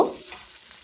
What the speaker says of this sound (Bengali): তেল গরম হয়ে গেলে দিয়ে দেব টুকরো টুকরো করে কেটে রাখা আদা আর রসুন